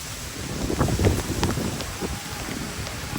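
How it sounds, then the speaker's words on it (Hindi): Steady heavy rain in a village hissing over a broad wash of noise, with scattered drops and patters on a surface, no voices. "बारिश बहुत तेज़ हो गई है, बहुत तेज़"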